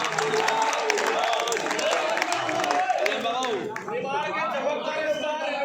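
An audience at a mushaira poetry gathering in Sendhwa claps and cheers, brief applause with chatter mixed in that fades into talk near the end.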